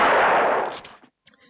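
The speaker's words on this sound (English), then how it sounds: "end abruptly in the thunderous sound of a single gunshot" A single thunderous gunshot from a showdown scene in The Good, the Bad and the Ugly, booming loudly and decaying over about a second, followed by a faint trailing sound.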